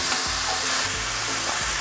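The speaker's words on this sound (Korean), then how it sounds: "설탕 1큰술 넣어주시고 고춧가루 3큰술 넣어서 센 불에 다시 한번 볶아주겠습니다" Webfoot octopus stir-fried over high heat with sugar and chili powder, producing a loud, steady, close sizzle that carries on without a break and with no voices.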